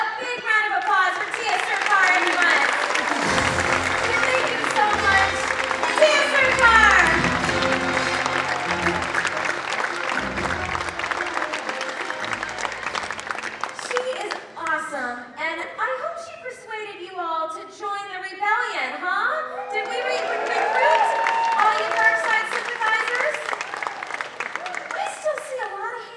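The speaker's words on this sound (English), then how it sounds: "a big round of applause for Tiya Sircar, everyone" An audience at Star Wars Weekends 2014 applauds a guest, with sustained clapping and cheering mixed with crowd voices and a host talking over and after it.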